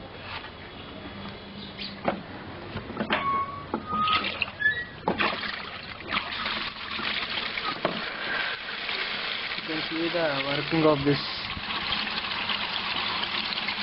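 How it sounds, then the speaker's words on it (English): Water churns and splashes in a sewage recycling aeration tank, stirred by a fan driven by a small 1400 RPM, 1/70 horsepower motor; a quiet, irregular trickling and sloshing under a voice. "The water gets disturbed in this aeration tank by using a motor."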